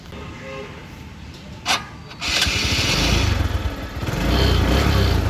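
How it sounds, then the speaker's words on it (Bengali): A 2022 TVS Metro Plus motorcycle engine is heard up close: a sharp click, then the engine catches and settles into a loud, steady running rumble. "গাড়ির ইঞ্জিন সাউন্ড শুনুন, আপনাদেরকে সাউন্ড শোনানো হচ্ছে, ইঞ্জিনের কাছ থেকে শোনানোর চেষ্টা করছি"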